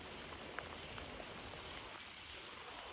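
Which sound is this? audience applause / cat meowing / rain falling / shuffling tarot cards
rain falling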